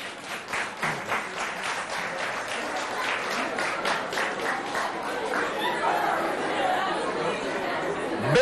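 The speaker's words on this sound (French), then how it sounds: "On l'applaudit." Audience applause for a poetry contestant at a school competition between lycées in Sarh, dense clapping that swells early and continues steadily, mixed with crowd chatter and voices throughout.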